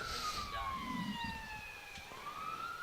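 Police car siren wailing in the distance around Mackay, a rising and falling tone heard faintly under crowd murmur, with brief talk in the background.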